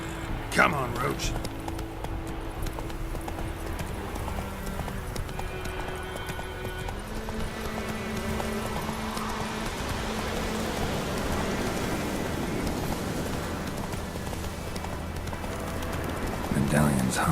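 Steady clip-clopping hoofbeats of a horse on the move in The Witcher 3: Wild Hunt video game, continuous and fairly close, with a constant bed of background sound behind them.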